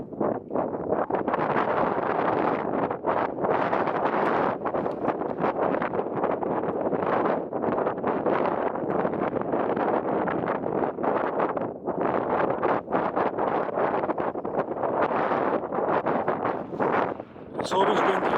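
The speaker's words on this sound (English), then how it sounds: "It's always windy on top." Wind on the summit of Hay Bluff in the Black Mountains batters the microphone with a dense, roaring rumble that stays loud and nearly unbroken, with only brief dips between gusts.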